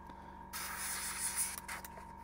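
An airbrush gives a short hissing spray burst to clear paint from its nozzle, a soft steady hiss lasting about a second with a brief second puff, quiet and close.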